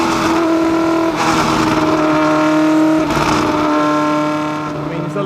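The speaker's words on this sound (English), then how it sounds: "it's a long time since I drove a Cosworth engine car really in a Formula One chassis" A 1969 McLaren M9A race car with a Cosworth engine drives past, its loud, steady engine note holding at high revs with two brief shifts in pitch, close and clear.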